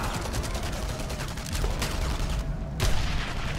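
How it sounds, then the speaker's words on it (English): Gunfire at a barricade in the war shooter Enemy Front, a steady rattle of overlapping shots with a couple of louder cracks near the end, dense and continuous against constant battle noise. "I'm getting shot from somewhere."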